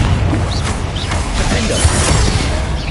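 Bombarda and Confringo blasting spells explode in Hogwarts Legacy, a dense, continuous roar of booming bursts and crashing debris with swishing magical streaks, loud and close throughout.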